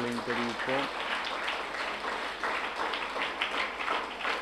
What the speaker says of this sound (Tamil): கைத்தட்டி நம்முடைய நன்றி வாழ்த்துக்களையும் தெரிவிப்போம்.